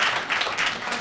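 A caucus audience of Democrats at a town meeting gives a burst of applause, many hands clapping together in a dense, lively wash that fills the room.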